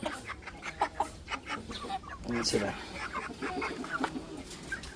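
Rhode Island Red chickens cluck in short, irregular calls, with a rooster and chicks among them. The calls sound fairly close and come in bursts, and a person speaks briefly over them.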